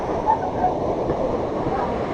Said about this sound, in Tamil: இதான் தண்ணி அப்படியே கொட்டுது அருவியிலேருந்து